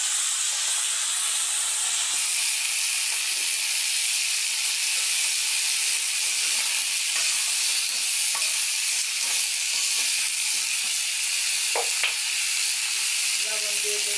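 Potato pieces frying in a hot pan give a steady, loud sizzle and hiss that runs the whole way through, with a few faint stirring knocks and no talk.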